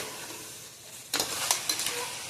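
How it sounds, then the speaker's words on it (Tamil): Chicken sautéing in a pan, a soft background sizzle broken by a few sharp scraping stirs of a utensil against the pan in the second half, close with no talking. "இப்போ அதை நல்லா நம்ம வதக்கி விட்டுக்கலாம்"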